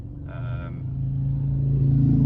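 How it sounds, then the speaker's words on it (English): A very noisy motorbike engine rumbles past nearby, growing louder and rising in pitch as it goes by. "Very noisy motorbike's gone by."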